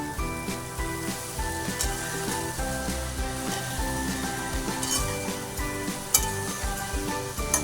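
Egg and cluster bean curry stirred in a hot pan, a steady loud sizzle under repeated scraping and clinking of a spatula, close and continuous with no talking.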